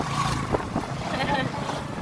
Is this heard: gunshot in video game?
no